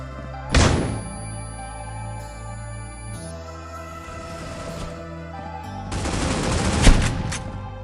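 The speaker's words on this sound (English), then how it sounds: "Tossing flash." A flashbang grenade goes off in a tactical shooter's pistol round, with two loud, sharp bursts a few seconds apart over steady game background noise.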